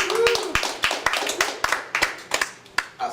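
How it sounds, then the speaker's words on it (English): A small audience at a civic association meeting gives a round of applause: distinct, fairly close hand claps in a loose, uneven rhythm that thins out toward the end. "You guys are on the ball, so you deserve a round of applause for that."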